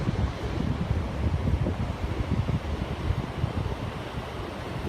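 Steady rumbling surf of ocean waves at a beach, a dense, wind-buffeted wash that is loud and continuous throughout, with no voices.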